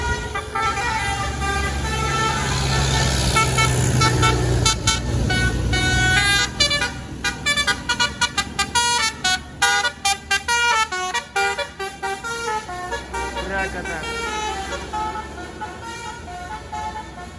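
A tour bus on the Pangandaran route sounds its telolet musical horn, a long, loud passage of rapid tuned toots in a rhythmic melody that rises over the engine rumble and then fades as the bus moves away.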